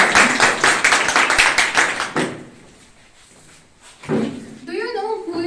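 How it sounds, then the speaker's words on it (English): Audience applause at a school Republic Day celebration: a dense burst of clapping for about two seconds that then fades, with a voice speaking after it. "A huge round of applause."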